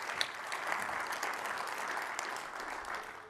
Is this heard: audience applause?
yes